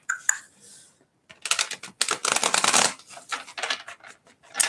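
Tarot cards are shuffled in a quick series of crisp riffling bursts, close and fairly loud, with short pauses between, after a couple of faint taps at the start.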